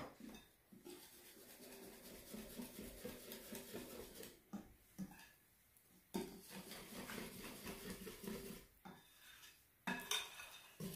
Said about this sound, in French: J'ai bien mélangé mes 12 cuillères à soupe de farine